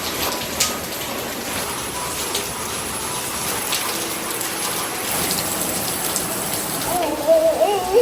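Steady rain falls outside a new house, a continuous even hiss of drops on surfaces throughout, with a few faint clicks and a brief tonal chirp near the end.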